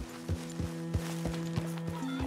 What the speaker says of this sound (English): Let me go hitch my horse.